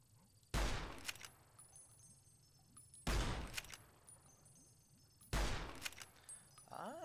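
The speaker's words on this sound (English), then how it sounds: "Grenade launch time." Grenade launcher fired three times in the video game Fallout New Vegas, each a loud sharp blast with a decaying rumble, spaced a few seconds apart over a low ambient game background.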